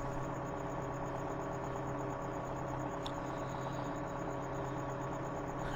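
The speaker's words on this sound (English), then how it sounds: "And there's a tractor in the distance." A faint, steady tractor engine hum drones in the distance in Farming Simulator 2015, with a low mechanical throb and constant background hiss, no voices present.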